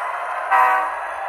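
A model train locomotive runs with a steady sound, and then a short horn blast cuts in for about a third of a second, loud and close, before fading back to the running noise, with no talk.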